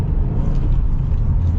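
Steady low engine rumble and road noise from inside a 2023 Subaru WRX Premium with a manual gearbox, driving continuously at even loudness with no talk.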